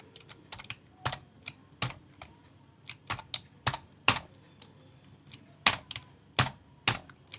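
Typing on a computer keyboard, with irregular sharp clicks in short bursts and pauses, close and clear in a quiet room with no talking.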